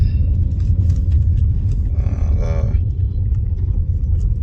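A car being driven, heard from inside the cabin as a steady low engine and road rumble, with a brief faint rattle or squeak in the middle and no talking.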